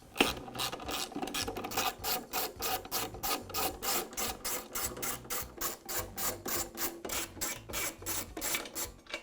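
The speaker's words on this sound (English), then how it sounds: "Now remove the 4 screws that hold the top to the columns" Screws being backed out of the top cover of a Makita planer, with a steady run of rapid clicking ratchet strokes in a regular rhythm, close and fairly quiet, no voices.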